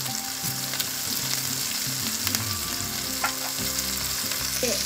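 Red chili powder, salt, chicken masala and Kashmiri chili powder frying in a pan for chicken chili, a steady close sizzle with stirring scrapes over a low hum, no talking.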